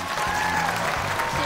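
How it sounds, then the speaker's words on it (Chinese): Studio audience on a televised music quiz show breaks into steady, dense applause, a continuous wash of clapping held at even loudness for the whole moment with no voices over it. "来，掌声在哪里？"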